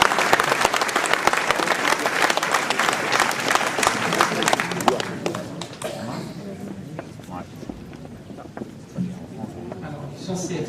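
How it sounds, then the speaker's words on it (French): A hall audience at a town mayor's New Year reception in Ouistreham applauds warmly for several seconds, dense and loud, then the clapping thins and fades while voices carry on underneath. "Madame Jude Marilène, responsable de la restauration scolaire, que vous connaissez et qu'on peut applaudir"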